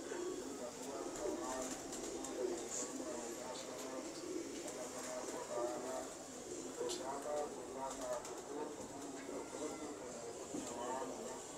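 Small pocket-size pigeons cooing in soft repeated throaty calls, fairly faint, with people talking over them in the background.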